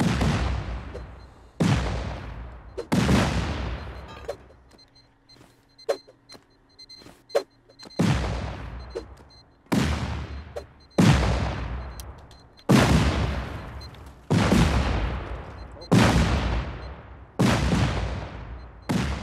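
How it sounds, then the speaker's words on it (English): Repeated explosions in a PvP video game, about nine loud booming blasts each trailing off into a decaying rumble, spaced a second or two apart with a quieter gap of small pops in the middle. "Explosions everywhere. Explosions all around."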